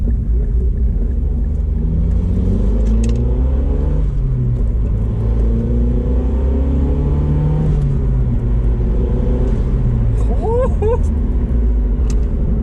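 A rusty Mazdaspeed 6 with worn-out suspension drives along, its engine rumbling steadily beneath someone talking throughout, with a short rev rise near the end.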